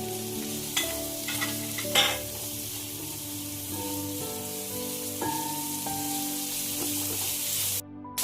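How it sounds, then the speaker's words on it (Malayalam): Shallots and onions sauté in a pan while preparing a country chicken perattu, giving a steady close sizzle with occasional scraping stirs and a sharper clink near the start and middle. "ഇതിലേക്ക് നമുക്ക് കൊച്ചുള്ളിയും സവാളയും ആഡ് ചെയ്ത് നമുക്ക് നന്നായിട്ട് വഴറ്റിയെടുക്കാം"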